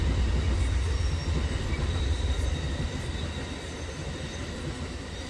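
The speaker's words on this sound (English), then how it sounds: "here comes the train, because it wouldn't be one of my videos without a train" A train passes close by, a loud continuous rumbling roar of rail wheels that holds steady for several seconds and then eases slightly, with no talking.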